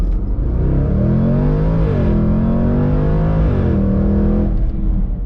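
Supercharged V8 in a Jaguar F-Pace SVR performance SUV roaring hard under full acceleration from standstill, deep engine note climbing through gear changes, loud and close with a continuous rumbling growl.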